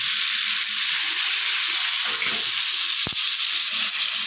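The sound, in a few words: water poured into sizzling spiced jackfruit curry in pan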